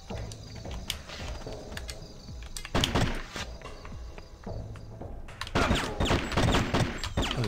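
Silenced weapon gunfire in Hitman 2, heard as scattered muffled shots and sharp thuds among footsteps and mechanical clatter, with denser bursts toward the end and no voices.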